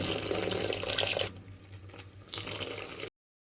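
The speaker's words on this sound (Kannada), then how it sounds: "ತೆಂಗಿನಕಾಯಿ ಹಾಲು ಚೆನ್ನಾಗಿ ಹಾಕಬೇಕು" Coconut milk poured into a pot of moong dal payasa, a close, steady liquid splash that softens briefly mid-pour, then resumes before stopping abruptly.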